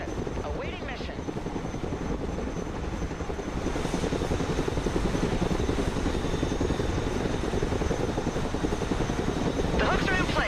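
A Chinook heavy transport helicopter lifts off in the video game Broken Arrow, its rotor thrum and engine drone loud and continuous, swelling midway, with brief in-game voice lines over it.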